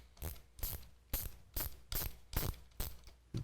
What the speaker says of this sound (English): let me get my ratcheting wrench in the right direction here